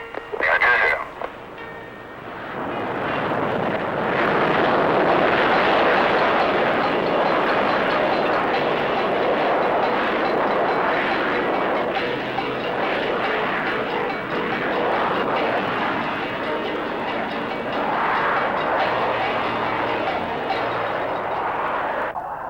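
An English Electric Lightning jet fighter taking off roars loudly and steadily, a broad rushing engine blast that holds strong for many seconds after a brief crackle at the start.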